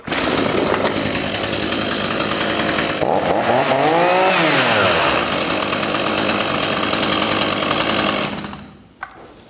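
A warm STIHL MS 182 chainsaw runs loud and close, its engine revving up and back down midway through the steady roar before it cuts off abruptly near the end.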